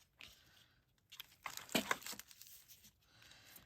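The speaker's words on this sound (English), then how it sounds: "I'm going to cut the strings a little bit." Strings are cut in an art studio, heard as close, quiet snips and crinkly tearing rustles in short irregular bursts, louder in the middle.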